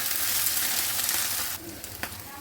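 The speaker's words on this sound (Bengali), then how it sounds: "আদা রসুন দিলাম ভালো করে নেড়ে চেড়ে আদা রসুনটাকে একেবারে ঘন ঘন করে নিতে হবে" Ginger and garlic frying with onions in a pan while being stirred, a steady close sizzle and hiss that eases slightly toward the end, with a faint scrape or two.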